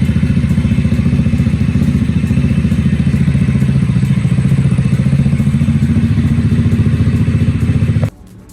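A Vespa scooter fitted with a 60mm kit and ECU runs with a loud, rapid, rattling idle that stays steady for about eight seconds before cutting off abruptly.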